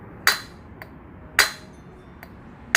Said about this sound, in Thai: เอาค้อนกระแทกนะครับ